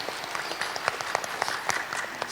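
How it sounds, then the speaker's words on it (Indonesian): Audience applause at a university graduation ceremony in Majalengka, a dense steady patter of many hands with a few sharper individual claps standing out, moderately loud and without speech. "berikan tepuk tangan juga untuk beliau."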